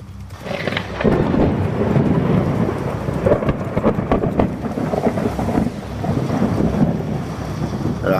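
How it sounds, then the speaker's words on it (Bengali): A thunderstorm over open fields rolls with deep, continuous rumbling thunder and heavy rain hissing steadily, loud and close throughout. "ফাঁকা জায়গায় ঝড় বৃষ্টিটা মিয়ার টমটমকে বেশ বাগে ফেল"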